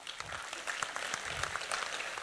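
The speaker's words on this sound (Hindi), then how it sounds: "जोर से इनसे तालियां बजाइए।" An audience at a poetry mushaira award felicitation in Vadodara applauds, producing a steady, fairly quiet wash of many overlapping claps with faint voices mixed in.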